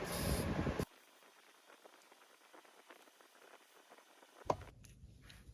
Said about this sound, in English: we're gonna spray it all along the top just real quick